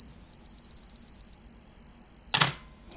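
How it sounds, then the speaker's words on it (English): Minolta 9000 AF camera self-timer giving a run of about eight short, evenly spaced electronic beeps that merge into one steady tone, then a sharp shutter release right at the end. "you can see the little red light and the audio beep."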